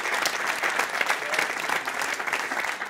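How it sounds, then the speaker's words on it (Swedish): Studio audience applauding during a Swedish talk show, dense continuous clapping at moderate loudness filling the whole stretch with no voice over it. "Applåd för den."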